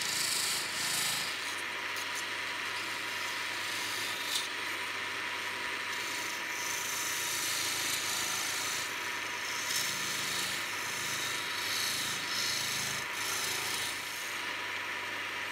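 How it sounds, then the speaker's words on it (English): A small skew chisel scrapes and shapes the inside of a wooden ring turned on a lathe, a steady close rubbing rasp over a constant motor hum that holds for the whole stretch without talk. "I'm just shaping the inside of the ring"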